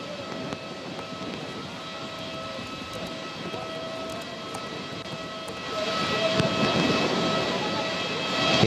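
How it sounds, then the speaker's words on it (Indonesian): A Garuda Indonesia airliner arriving at Soekarno-Hatta airport fills the air with a steady, loud jet engine roar that swells slightly toward the end, with a faint voice underneath. "pesawat Garuda Indonesia GA7720 yang baru saja tiba di Bandara Soekarno-Hatta"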